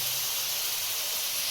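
A paste of onion, ginger, garlic and tomato fries in a hot pan for an egg biryani, giving a steady loud hiss and sizzle with no talking over it.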